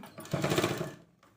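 Sewing machine stitching a girls' uniform skirt, a brief close mechanical whir that rises, holds for about half a second and then fades off.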